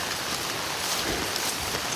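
Steady rain falling outdoors near corn and long bean fields, an even, close hiss of drops with no voices and no breaks.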